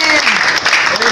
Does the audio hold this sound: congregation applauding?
yes